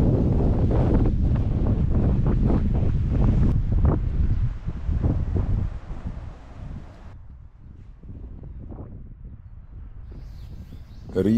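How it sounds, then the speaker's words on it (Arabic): Strong wind gusts roar and buffet the microphone with rain falling in the Chaouia region, loud and rough at first, then easing to a quieter windy hiss in open air. "رياح قوية وأمطار الخير تتساقط على منطقة الشاوية"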